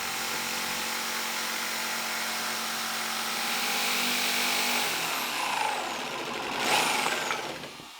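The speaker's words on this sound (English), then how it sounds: "I'll cut the taper with a jigsaw." A power jigsaw cuts a taper into 2x4 legs for an outdoor garden bench, its motor holding a steady, loud buzzing drone close by before the pitch shifts and winds down near the end.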